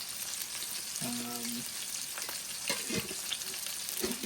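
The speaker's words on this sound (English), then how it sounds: "Just let it keep sizzling for another few minutes on that side" Steady broadband sizzle of a burger patty frying in a pan, with a brief tonal clink and a few scrapes partway through.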